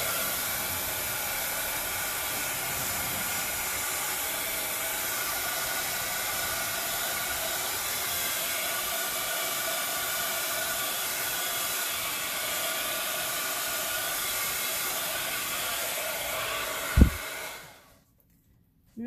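A hair dryer blows a steady loud whooshing hiss over wet alcohol ink for about seventeen seconds, then clicks off and the sound drops to near silence.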